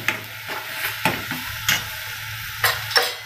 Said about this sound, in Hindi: अभी जो ग्रीन मसाला पीसा है उसे थोड़ा भून कर